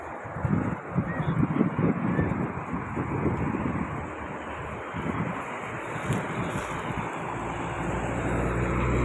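Traffic on a roadside, with a bus and other vehicles passing close by, a broad roaring rush that swells and fades under steady wind buffeting the microphone, no talking.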